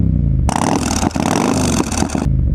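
A Yamaha MT-07 motorcycle engine is revved hard in loud bursts, with a couple of brief dips between throttle blips before it cuts back to a low rumble.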